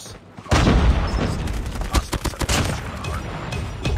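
PP19 Bizon submachine gun firing in COD Mobile, a loud burst of rapid gunfire that breaks off into several sharp shots and shorter bursts, with punchy impacts between volleys.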